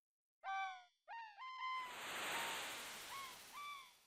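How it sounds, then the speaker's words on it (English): Chirping bird calls from the Chrono Trigger video game come as short, clear, whistled pitch sweeps in quick groups, then a broad hiss of ambience before two more chirps sound near the end. "Those are supposed to be bird sounds."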